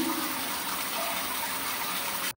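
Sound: shower water running while bathing a dog

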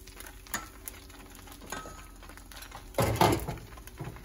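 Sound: bánh xèo batter sizzling in frying pan

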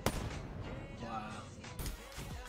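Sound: RK5 gunfire in a shooting video game

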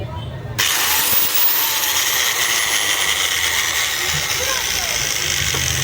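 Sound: Crown 600W grinding machine running with a bad noise

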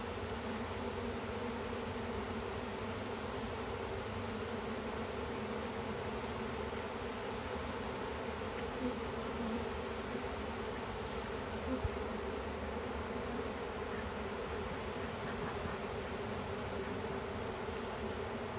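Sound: honey bees flying around a hive

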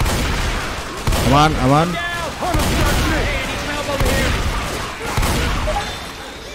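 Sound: gunfire in the video game Left 4 Dead

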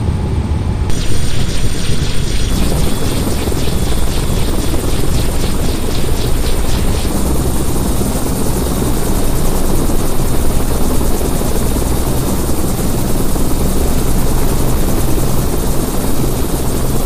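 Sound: helicopter

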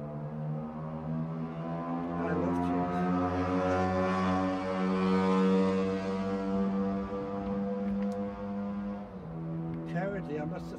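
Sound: motorbikes going past a house

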